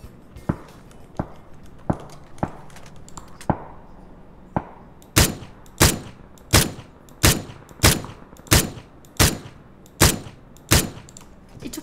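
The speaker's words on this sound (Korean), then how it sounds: "저쪽에 총소리 나고." Evenly spaced sharp cracks ring out one after another, sparse at first and then louder and more regular, like repeated single gunshots in a game.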